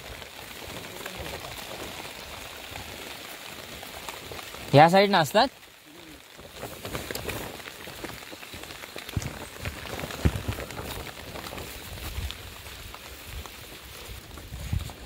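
Steady rain falls outdoors near farm fields, a soft continuous patter with a brief louder burst midway, while someone speaks over it.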